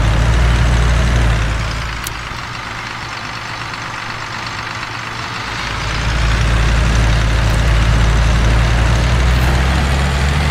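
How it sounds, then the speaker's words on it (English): A heavy 6810 tractor engine rumbles loudly and steadily up close, easing down briefly in the middle before swelling back to full power. "this is a beast of a tractor"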